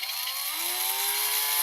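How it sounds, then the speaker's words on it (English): A power drill bores a starter hole in copper pipe, a close, steady whirring whine that rises slightly in pitch as the bit bites, with no talk. "And just drill."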